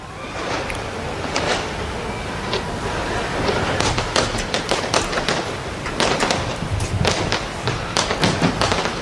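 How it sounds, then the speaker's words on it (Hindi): New Year fireworks over Auckland, New Zealand, a rapid series of sharp bangs and crackling bursts from a distance that grows denser toward the end, with faint crowd noise beneath. "न्यूजीलैंड के ऑकलैंड की तस्वीर है, जहां पर नववर्ष की शुरुआत को लेकर ज़बरदस्त आतिशबाजी हो रही है।"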